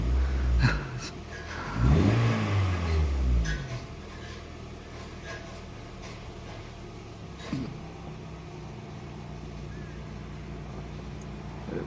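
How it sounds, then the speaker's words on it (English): Honda Fit engine revving up in a couple of quick rises and falls near the start, then settling to a steady idle hum with small clicks and a brief blip later on. "Can't believe how nice and smooth it is when it's revving."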